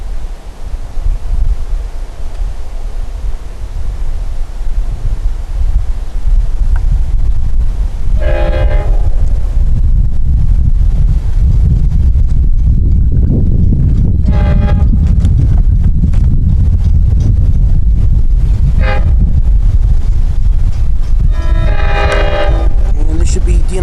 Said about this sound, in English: train 660 is about to arrive here as the gates have just gone down here at Northern Boulevard